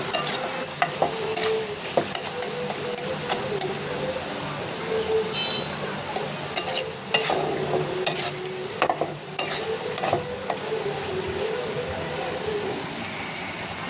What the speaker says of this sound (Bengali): ডালটা নরম হওয়া পর্যন্ত আমার মাংসটাকে কষিয়ে নিতে হবে